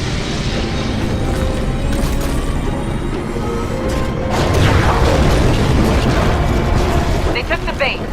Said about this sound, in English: The cannon's powering up.